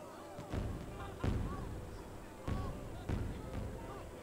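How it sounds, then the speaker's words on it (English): Fireworks burst in the Nintendo 3DS game Detective Pikachu: four or five booming thumps at uneven intervals, with faint rising whistles between them over a steady background hum. "The fireworks have started."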